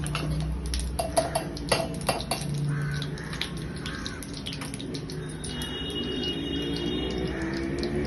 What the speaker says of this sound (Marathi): मस्त जिरं तडतडतंय.